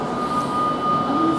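A Virgin Trains Class 390 electric train leaves Birmingham International station for Edinburgh Waverley, giving a steady, close rumble with a faint tonal whine and no talk.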